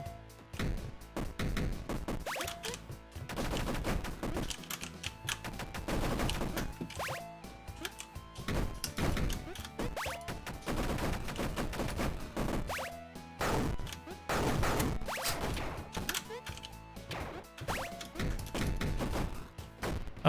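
Gunfire from the video game Gunkid 99 hammers steadily for a long stretch, with dense, loud, punchy shots and thuds layered over a constant game soundtrack and no talking.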